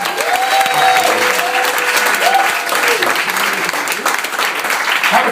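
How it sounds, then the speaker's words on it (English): A comedy show audience breaks into loud, sustained applause and cheering that fills the room, with an amplified voice talking over the clapping throughout. "Give them a round of applause."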